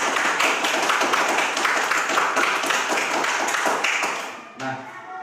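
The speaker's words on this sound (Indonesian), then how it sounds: "Tepuk tangan dulu untuk kelompok 1." Classroom students clap together for a presenting group, a dense burst of many hands lasting several seconds before fading out, with a brief voice near the end.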